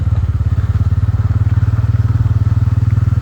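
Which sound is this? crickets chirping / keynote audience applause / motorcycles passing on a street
motorcycles passing on a street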